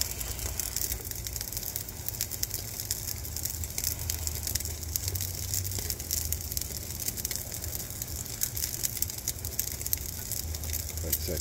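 A steak sizzles on a very hot BBQ grill after being turned, a soft, continuous crackling hiss with scattered pops that runs steadily without a break.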